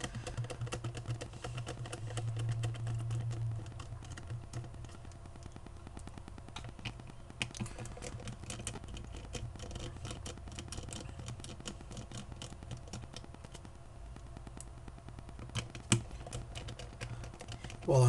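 Small screws being unscrewed from a Samsung Blast SGH-T729 phone during disassembly, a faint, steady run of tiny clicks and scrapes with a low background hum and no talking.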